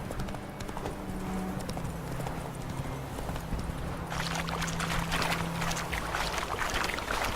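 Horse hooves clip-clopping at a steady galloping rhythm in the Witcher III: Wild Hunt video game, close and continuous, with a low whooshing ambience and a brief shift in texture partway through.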